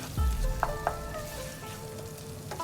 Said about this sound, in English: Saute this paste for about a minute on a medium flame.